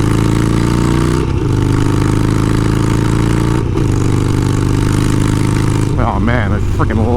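A Harley-Davidson Sportster V-twin idles steadily and loud up close, its low lumpy rumble broken by brief dips near the start and middle, then a few sharp throttle blips near the end.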